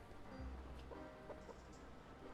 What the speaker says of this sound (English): Cluck cluck